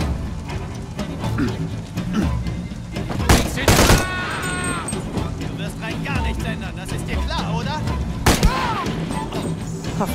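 Gunfire in the video game Shadow of the Tomb Raider, with bursts of shots and a couple of loud blasts around four and eight seconds over busy game noise, while someone talks throughout.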